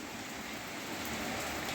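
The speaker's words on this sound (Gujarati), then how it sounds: "છે ચાલુ અંતરાધાર વરસાદ છે, વરસી રહ્યો" Heavy rain pours down in Jamnagar during a power cut, a dense, steady hiss of downpour filling the clip without a break.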